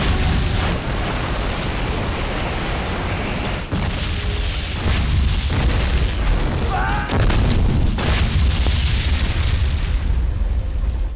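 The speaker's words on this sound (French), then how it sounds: "explosions!" Explosions from the low-budget disaster film Titanic II, a run of loud, deep booms and rumbling bursts that fill the whole stretch, with a brief voice-like fragment in the middle.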